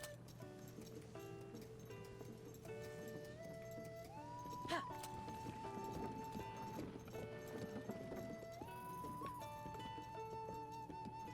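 In Zelda: Tears of the Kingdom, a horse's hooves clip-clop steadily along a road, a soft even rhythm sitting beneath melodic game music that carries on throughout.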